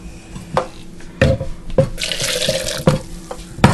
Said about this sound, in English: I'm going to add some more water.